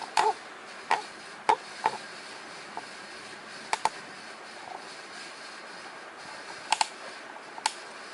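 Someone types on a computer keyboard while working on a Raspberry Pi, sparse single key taps and a few quick pairs landing irregularly against a quiet room.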